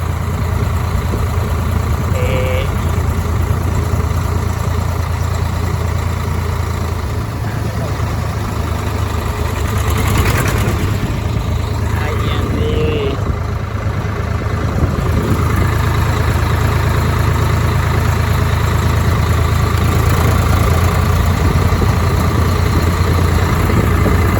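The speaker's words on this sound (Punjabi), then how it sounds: "ਉਧਰੋਂ ਆਪਣਾ ਆ ਗਿਆ ਨਿੱਕਾ ਟਰੈਕਟਰ 750" A small 750 tractor engine idles with a steady, loud low rumble throughout, close by and unbroken, with faint voices in the background.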